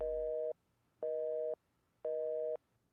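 A telephone busy signal in the Nancy Drew game The White Wolf of Icicle Creek, three steady half-second tones separated by equal silences, clean and close with no voices.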